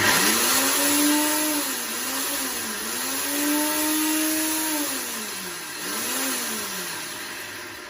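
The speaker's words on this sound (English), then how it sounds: "we start by blending our crayfish." A blender crushing crayfish runs steadily with a rising and falling motor whine, its pitch dipping in repeated surges as the contents churn, close and loud with no talking.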